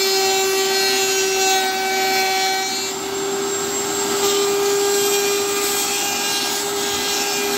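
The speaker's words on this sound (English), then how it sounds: "I'm going to smooth down some of these corners on the bandsaw" A bandsaw smoothing the corners of a wooden Bluetooth speaker box, a loud, steady high motor whine with a sustained tonal hum and a faint rasp of the blade on wood, close and without talk.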